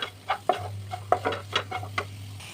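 Chilli powder and spices are stirred in a pan, several light, uneven scraping strokes over a faint low hum, fairly close and quiet, with no voices.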